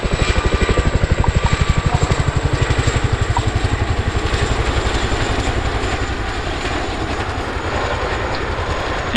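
RAF Chinook helicopter in a 2024 role demonstration flight, with a heavy, rapid, steady rotor thump and loud engine roar throughout, close and continuous with no talking.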